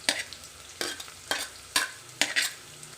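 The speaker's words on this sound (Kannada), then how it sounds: "ಈರುಳ್ಳಿ ಫ್ರೈ ಆಗಿದೆ" Small sambar onions and curry leaves frying in a pan, stirred in five regular scraping, sizzling strokes about every half second, close and fairly quiet with no talking.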